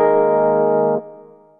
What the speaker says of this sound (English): So right now we have an e-piano, sounds like this.